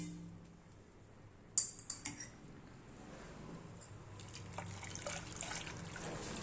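Water is poured through a strainer into a pot, a sharp clatter giving way to a steady trickle and splash that carries on quietly to the end.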